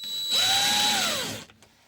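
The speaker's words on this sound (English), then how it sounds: "Alright, so now I'm gonna use a drill" A power drill drives screws into a Kwikset keyed entry lock with handle: one close, loud burst of about a second, its motor whine rising then dropping as the trigger is released, with no talking.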